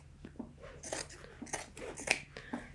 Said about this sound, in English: I'm just going to go ahead and cut off this leg from the main part of the body